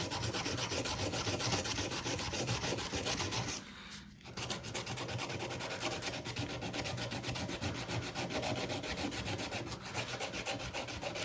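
Sandpaper rubbed by hand across wood gives a steady, close rasping scrape, dipping into a brief pause near the four-second mark before the strokes resume.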